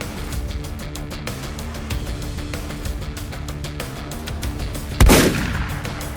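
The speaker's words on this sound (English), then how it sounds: "Will put in a second shot to make sure he stayed down" A single loud shotgun blast during a turkey hunt, a close, sharp boom with a lingering rumble, heard over steady outdoor background noise.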